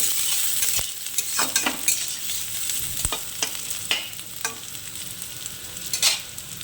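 Nigella seeds being stir-fried in hot oil in a pan, a continuous sizzle broken by repeated sharp scrapes and taps of a spatula against the metal.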